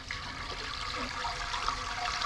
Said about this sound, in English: So first I'm going to pour the water in with the sugar.